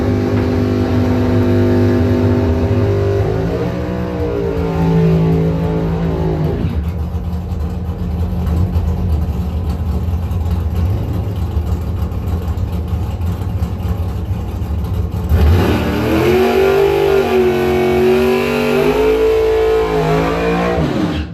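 Drag race cars, including a '68 Camaro with a 555 Chevy engine, in a bracket final at a points event: loud engines rumble and rev with rising pitch, ease off in the middle, then roar again close by.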